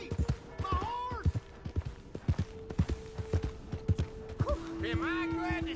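A horse's hooves clop in quick, uneven steps in the Western video game Red Dead Redemption 2, mixed with creaks and tonal game sounds, while voices talk over much of it.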